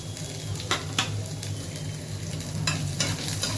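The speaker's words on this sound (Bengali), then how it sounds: "অয়েলটা যখন দেখবেন গরম হয়ে এসছে তখন আমি এই রসুন কুচি এটাকে এই অয়েলে অ্যাড করব।" Chopped garlic fries in hot oil for a white sauce pasta, giving a steady close sizzle broken by a few brief scraping stirs, with no voices.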